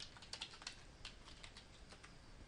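Keys clatter on a computer keyboard in a steady run of quick, light taps, fairly quiet and close, over a constant background hiss with no voices.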